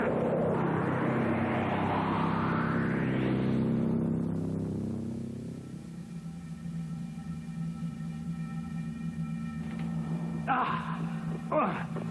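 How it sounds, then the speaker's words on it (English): A science-fiction tractor beam effect from an animated series: a loud, rising, sweeping whine over a deep electronic drone, which settles into a steady hum with a few brief bursts near the end. "We're caught in a tractor beam."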